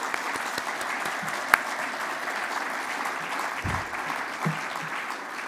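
A forum audience at a U.S.-German event on data and security gives steady, even applause throughout, close and continuous with no talk over it.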